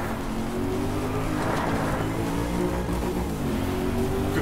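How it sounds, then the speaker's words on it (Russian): A car engine in the Driveclub racing game revs hard and climbs quickly in pitch, a loud continuous buzzing drone with rising and falling harmonics, heard alone with no talk. "Как быстро он набирает обороты."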